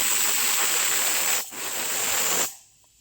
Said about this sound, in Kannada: ಇವಾಗ 2 ವಿಷಲ್ ಆಗಿದೆ.